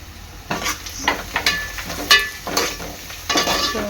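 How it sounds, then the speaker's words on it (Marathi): Chopped onions and crushed garlic fry in a pan for Koli-style chicken sukka, with repeated sizzling bursts and scraping stirs in an irregular rhythm, close and moderately loud, no talking. "कांदा चांगला लाल होईपर्यंत शिजून घ्यायचा आहे त्यामध्ये मी टाकणार आहे आता ठेचलेलं लसूण"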